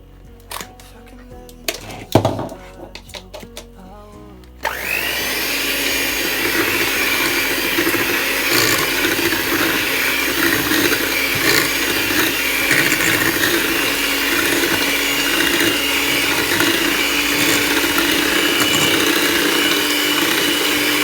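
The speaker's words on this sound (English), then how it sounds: "So I'm just blending up the plantain," A few clicks and clatters, then a blender whirs on loudly and runs steadily, mixing ripe plantain, egg, vanilla, butter and sugar with a constant motor drone.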